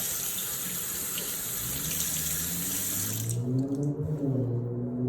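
A knife is rinsed under a running kitchen tap, giving a steady hiss of water into the sink. The flow cuts off partway through, leaving a low, uneven rumble and drips.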